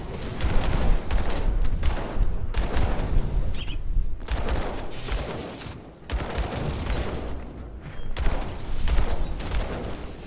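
Rapid gunfire from guns in the game Grim Dawn, loud sustained bursts of overlapping shots with short pauses between volleys, dense and close throughout.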